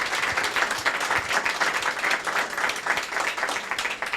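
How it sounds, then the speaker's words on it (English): Audience applause at a congressional district candidate debate, a dense, steady wash of many hands clapping throughout, with no voices rising above it. "Another round of applause here."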